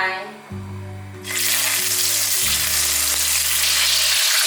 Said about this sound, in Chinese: 锅内放入一些油，油热了之后，把豆腐放进来